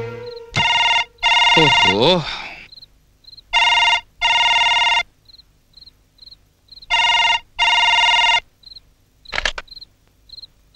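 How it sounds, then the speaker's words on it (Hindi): Landline telephone ringing at a house, repeating bursts of electronic trilling in regular pairs, loud and close; someone speaks briefly between rings. "मो घर फोन रिंग होची किंतु के उठो नाथी"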